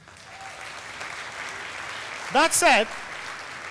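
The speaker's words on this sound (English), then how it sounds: "I'd like to sort of say a round of applause for Richard Dawkins" Steady applause from a lecture audience for Richard Dawkins fills the whole stretch as a broad, even wash of clapping, and a voice briefly speaks over it near the end.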